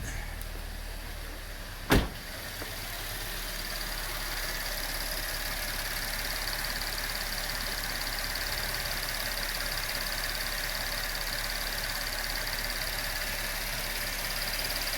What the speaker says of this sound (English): Seems to be idling nice.